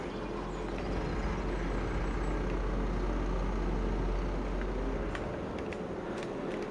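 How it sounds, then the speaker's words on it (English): A farm vehicle's engine idles in Farming Simulator 25, a steady low rumble holding evenly throughout with a few faint clicks near the end and no talking. "Left the engine running."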